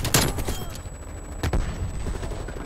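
Rapid automatic AK-47 fire in Call of Duty: Black Ops Cold War, bursts of quick cracking shots with sharper reports near the start and middle, fairly loud and continuous.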